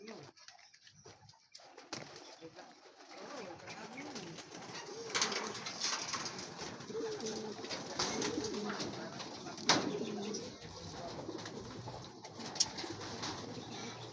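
Racing pigeons coo softly and repeatedly at moderate distance, low rolling calls layered with faint rustles and occasional wing flutters, while people talk quietly nearby.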